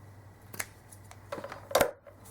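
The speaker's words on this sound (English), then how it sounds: "I'm going to use my fabric scissors for these." Fabric scissors snip through lace in a few short, crisp cuts, close and fairly loud in a quiet room, the last cut the strongest.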